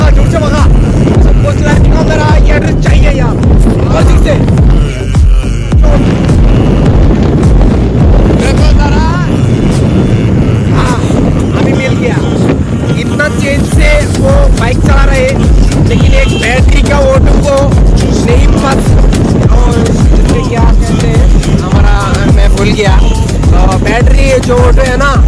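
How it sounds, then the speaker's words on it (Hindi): Motorbike ridden fast on a road, heavy wind buffeting the microphone throughout with a loud roaring rush and underlying engine drone, while people talk over it. "इतना तेज से हमारा ये आदमी बाइक चलाता है"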